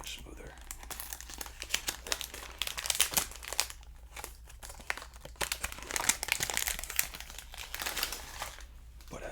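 Crinkling plastic packaging from a cheap fragrance haul handled up close, with dense continuous crackles and crisp rustles throughout, alone with no talk.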